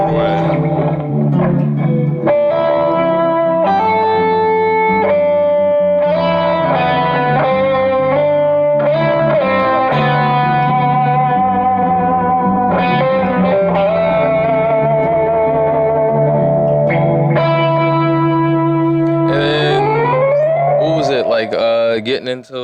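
An electric guitar with chorus and crunchy distortion effects plays a sustained, melodic line of bent and held notes, loud and up close with no talking over it.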